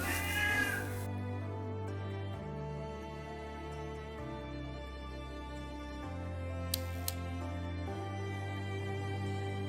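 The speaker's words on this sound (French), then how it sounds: "je crois que mon chat veut sortir dehors" A pet cat meows indoors, asking to be let outside. The cries are close and clear and sit over a steady, sustained tonal background that runs through the whole stretch.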